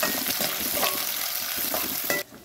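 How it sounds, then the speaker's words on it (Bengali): Sliced onions fry in oil with whole spices such as chilli, cloves, cardamom and cinnamon, making a crackling sizzle with repeated spatula stirring and scraping close by. The sound cuts off near the end, and no one speaks. "আমার পেঁয়াজটা কিন্তু ভাজা ভাজা হয়ে গেছে"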